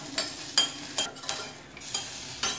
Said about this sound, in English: Then fry it for a while till garlic changes its color and the seeds started slowly bursting.